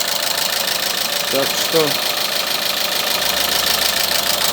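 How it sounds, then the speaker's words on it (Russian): Renault Megane 3 with the original K4M engine and a faulty cam phaser, running steadily at idle with a continuous mechanical clatter, close and loud, while someone speaks briefly over it. "Вот, значит, фазовращатель с двигателя Рено. Оригинальный мотор К4М. Застучал."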